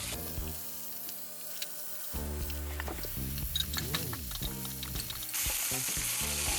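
A steak sears in hot oil in a frying pan, giving a steady close sizzle and crackle throughout, with some clinking and tonal background sounds mixed in.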